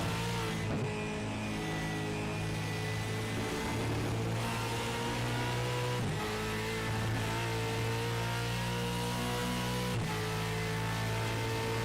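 A race car engine roars and revs hard on Phillip Island Circuit, rising and dropping through repeated gear changes with brief dips between pulls, loud and continuous with no talking.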